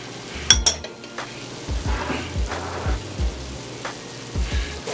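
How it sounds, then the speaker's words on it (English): Carrots tumble into a pot of chicken pot pie sauce, giving a few soft clatters and stirring scrapes over a low sizzle, with no talking. "Here's my carrots going in."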